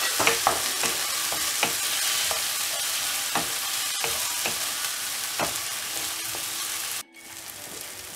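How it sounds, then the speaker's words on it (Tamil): Tomatoes and garlic fry in a pan for a fenugreek-leaf gravy, producing a continuous close sizzle punctuated by utensil clicks and scrapes, then cutting off briefly near the end. "பூண்டு வதங்கின உடனே தக்காளி ஆட் பண்ணிட்டு நல்லா ஃப்ரை பண்ணிடலாம்."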